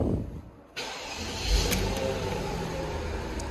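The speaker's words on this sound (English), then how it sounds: "we'll start up the car" A 1999 Mercedes S430L V8 limousine starts up, a brief starter crank giving way to a steady, fairly loud idle rumble that continues to the end with no talking.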